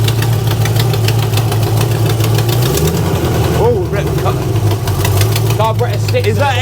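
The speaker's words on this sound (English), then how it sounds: "Is that engine knocking?" An abandoned Ultima supercar engine, with a sticking carburetor and blowing exhaust, runs rough and loud up close with a rhythmic knocking chug and a shift in pitch midway, with voices talking over it.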